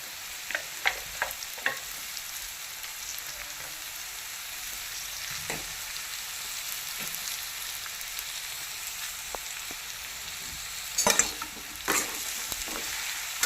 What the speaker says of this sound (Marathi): भोपळा जी आहे तो असा हलवून घ्यायचा